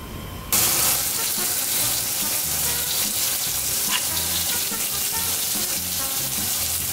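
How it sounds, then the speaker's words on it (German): Burger patties sizzle on a charcoal grill, hissing and crackling in a loud, continuous wash that starts abruptly and keeps steady to the end, with faint voices buried underneath. "So, jetzt brutzelt das hier schön."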